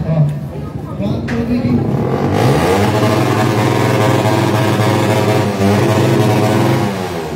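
Several motorcycle engines rev steadily and loudly at a motor show, a continuous droning roar with rising and falling pitch sweeps, while a voice talks faintly over the noise.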